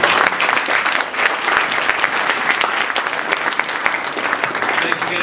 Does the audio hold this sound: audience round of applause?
yes